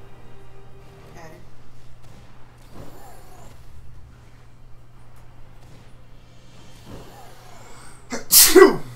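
A single loud, close sneeze bursts out near the end, following a stretch of quiet indoor room tone with faint background rumble, among people playing a Pokémon game and hunting for Kyogre.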